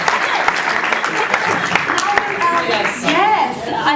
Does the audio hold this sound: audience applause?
yes